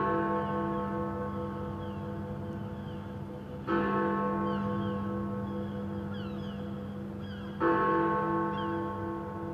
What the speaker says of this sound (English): they love listening to Big Ben.